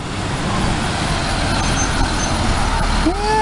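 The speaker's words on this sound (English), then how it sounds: "Here comes a bus. Let's see if this bus stops." A city bus approaches along a street, its loud engine and road rumble building steadily, with a rising brake squeal near the end as it slows.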